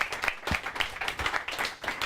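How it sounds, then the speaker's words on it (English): Applause from the audience at a general meeting, a short burst of many quick, overlapping claps, moderately faint and steady throughout. "So round of applause."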